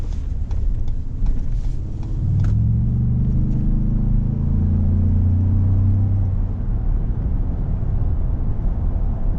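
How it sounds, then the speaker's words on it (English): A 2016 Ford F-150 Platinum's 3.5 EcoBoost twin-turbo V6 drones steadily from the cabin on a dark country road at night, swelling in a smooth acceleration midway, then settling into an even, continuous rumble. "V6 turbo. It's got a lot of get up and go, good amount of torque. Sound isn't too bad either."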